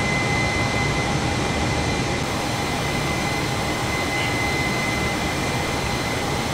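A Super Air Jet airliner's jet engines roar as a constant broadband rush inside the cabin in flight, steady and loud with a faint whine and no talking.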